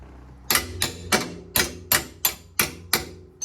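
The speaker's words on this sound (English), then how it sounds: "You can kind of tap it with something." Tapping a BMW F30 suspension part into alignment during a sport springs install: eight sharp, evenly spaced metallic knocks, close and loud, with no talk.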